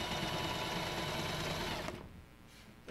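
A sewing machine stitching with its top thread tension dialed up to 9 gives a loud, steady close whir for about two seconds, then slows and fades to a quieter hum.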